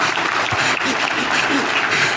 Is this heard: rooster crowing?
no